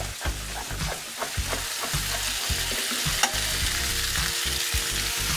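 Pieces of beef sizzle and crackle steadily in a hot pan, a dense continuous frying hiss with scattered pops, close and alone without speech.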